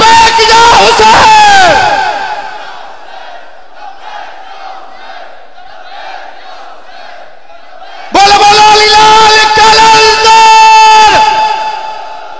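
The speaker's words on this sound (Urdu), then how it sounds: "بولے ہاتھ بلند کر کے لبیک جا حسین" A large crowd at a religious Jashan gathering in Chak Shian shouts Labbaik ya Hussain with raised hands, two loud chanted bursts separated by a quieter stretch of murmuring voices.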